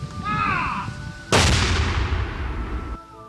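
A Civil War-era fort cannon fires at the steamship Boston: a single loud, close boom with a long decaying rumble, preceded by a brief whistling tone.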